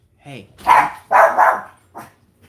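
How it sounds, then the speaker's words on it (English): A pet dog barking excitedly indoors as someone arrives home, several loud close barks in quick bursts, with voices mixed in. "my dog is freaking out"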